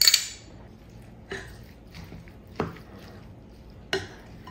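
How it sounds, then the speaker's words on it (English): A spoon clinks against a bowl while a cup of salsa is stirred into eggs: four or five separate light scrapes and taps, spaced about a second apart, with soft wet squishing between them. "Actually, I might mix the whole cup of salsa in there."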